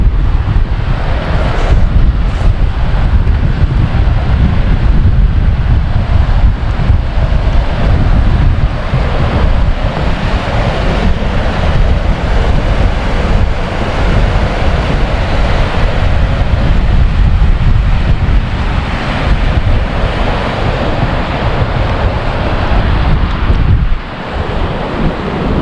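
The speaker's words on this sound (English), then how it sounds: "oh, that wind is picking up over here." Strong wind gusts roar loudly and continuously across the microphone in a snow-covered Jay Cooke State Park the day after an 18-inch spring snowstorm, a dense rushing bluster with no voices, easing briefly near the end.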